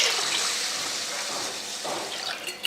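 Water pours from a tap over idli rice and urad dal for washing, a steady splashing flow that eases slightly toward the end, with a faint clink near the close.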